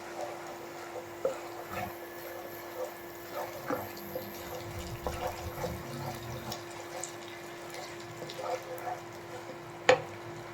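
Water poured into a masala of cashew, melon seed and poppy seed paste cooking for dudh shukto, with soft splashes, drips and a light sizzle in a quiet kitchen, ending in a sharp clink.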